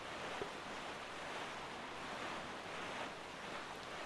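Ocean waves and wind while sailing a boat in The Legend of Zelda: The Wind Waker: a faint, steady wash of surf and rushing air with no distinct events and no talk.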